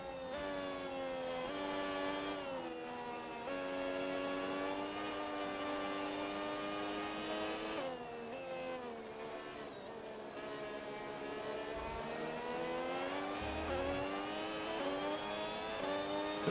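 An F1 race car engine screams at sustained full throttle in the F1 26 video game, a steady high-pitched whine with rising and falling pitch sweeps as the car shifts gears, continuous and loud with no talking.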